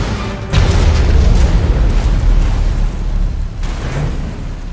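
A warhead blast from the Cabals War Games strategy game levels a base, a loud, dense low boom that hits after half a second and rolls on as a sustained rumble, swelling again near the end.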